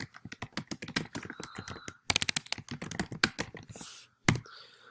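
Fast, irregular bursts of keystrokes on a computer keyboard as answers are typed in, crisp and close, with short pauses between words and a brief break partway through.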